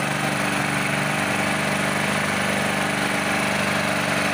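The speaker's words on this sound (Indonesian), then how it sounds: "Ini saya lagi tes karburator LPG. Pakai genset 1500 watt." A 1500 watt generator running on a homemade LPG carburetor, a loud, steady close-up engine drone with a dense buzzing tone that holds unchanged throughout.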